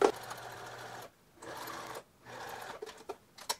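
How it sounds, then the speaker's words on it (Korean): Domestic sewing machine stitching seam lines on a cotton T-shirt during a reform, three steady bursts of mechanical whirring separated by short pauses, close and clear with no talking. "여기를 재봉틀로 박아줍니다."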